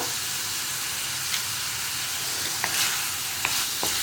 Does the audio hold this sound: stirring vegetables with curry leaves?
yes